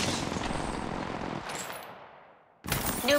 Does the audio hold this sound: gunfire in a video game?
yes